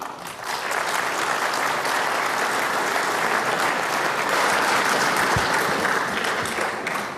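A hall audience at a political speech in Crimea breaks into sustained, dense applause that swells quickly and holds steady for several seconds before tapering slightly at the end.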